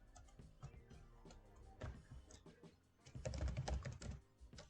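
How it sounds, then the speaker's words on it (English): A name is typed on a computer keyboard in quick, irregular bursts of close, soft key clicks with short pauses between them, growing denser toward the end. "so he can type his name"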